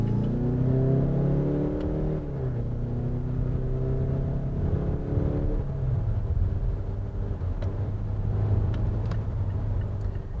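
A 2019 Mazda CX-5 diesel drives through turns, its engine a low, steady drone that shifts pitch as it eases off and pulls again, heard from inside the cabin with no talking.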